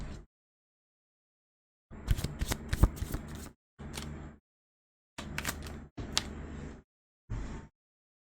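Tarot cards are shuffled and drawn close by, in several short bursts of riffling and flicking separated by silent pauses, quiet overall with no talk.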